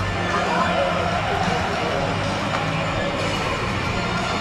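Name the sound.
Liverpool football crowd in the stadium in Kiev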